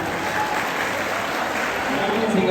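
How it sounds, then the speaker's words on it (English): A school audience in Patna claps and cheers loudly and continuously, a dense sustained roar of hands with a voice heard over it near the end. "Can I have some claps and cheering also,"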